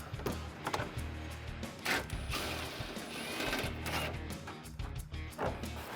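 Ratchet clicking as a 10mm swivel socket loosens a bolt on a RAM 1500 front bumper, quiet irregular bursts of mechanical clicks and knocks with short pauses, faint and close.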